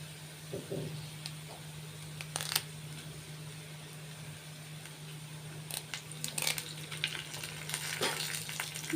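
A tempering of curry leaves in oil sizzles quietly and steadily, with a few sharper crackles and spatters now and then over a constant low hum, faint and close.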